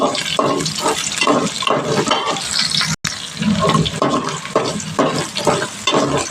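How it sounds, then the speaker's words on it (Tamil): Onions are fried and stirred in a pan for bitter gourd kara kuzhambu: repeated close scraping strokes over a wet, sizzling hiss, with a momentary dropout partway through and no speech. "பெரிய வெங்காயம் போட்டு கொஞ்சம் நல்லா வதக்கிக்குவோம்"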